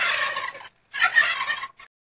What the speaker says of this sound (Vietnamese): gà tây.